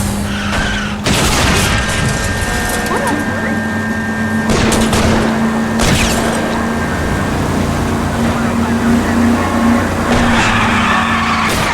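Car chase in the L.A. Noire video game with skidding tires, a steady roaring engine and sharp bursts that could be gunshots aimed at the tires, loud and continuous throughout.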